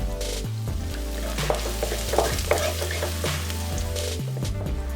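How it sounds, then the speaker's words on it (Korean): Chopped green onion sizzles and crackles steadily in hot cooking oil in a pan with occasional stirring clinks, close and continuous throughout. "식용유 4스푼 넣고 달궈지면 대파를 넣고 볶는다"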